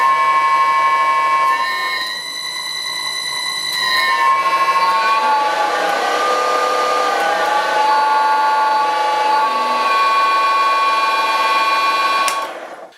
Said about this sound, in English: But I can always fire up the wood lathe. That's a real noisy bastard.